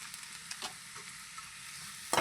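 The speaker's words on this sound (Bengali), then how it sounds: "এইগুলোকে ভালো করে নেড়ে চেড়ে মিশিয়ে নেব।" Chili powder, Kashmiri chili and spices stirred in a frying pan, a soft continuous sizzle with light stirring scrapes and a louder scrape at the end, with no voices.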